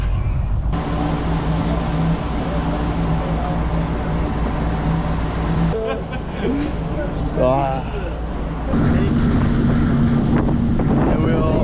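A car ferry sails to the Isle of Skye, its engine a steady low drone under gusting wind noise, with voices talking over it.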